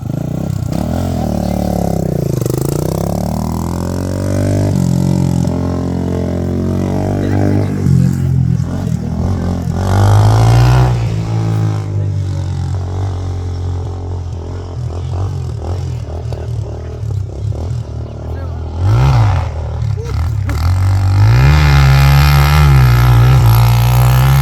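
A dirt bike is ridden off-road, its engine rising and falling through uneven revs with scraping and clattering from the rough ground, loud and close throughout.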